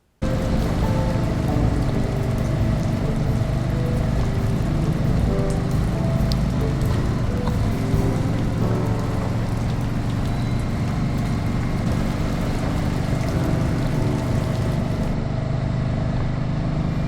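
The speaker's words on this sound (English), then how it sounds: "Rain ain't no big deal." Rain pours steadily onto a car while it drives, a dense, constant loud hiss layered over engine rumble.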